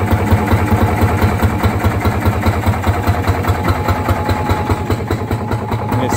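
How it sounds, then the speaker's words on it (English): Fairmont MR19 rail speeder engine idling alone, a loud, close, steady low thumping rhythm with an even mechanical chug and no talk. "Alternator lights out. It's idling."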